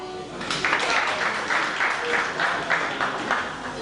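An audience at an event in Angola applauds, steady rhythmic clapping in even pulses, moderately loud and sustained for several seconds, with faint voices underneath.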